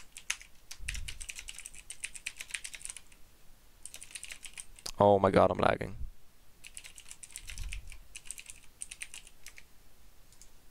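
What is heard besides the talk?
typing on a computer keyboard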